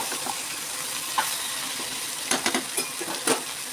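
Sambar masala with Kashmiri chilli being sautéed in a pan over low heat, a steady soft sizzle with a few light scraping clinks of stirring near the end, no voices.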